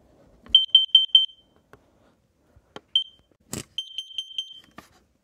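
A Kidde carbon monoxide alarm gives bursts of four quick, high, piercing beeps, then falls silent for a pause before beeping again. Soft clicks and a brief noise sit between the beep groups.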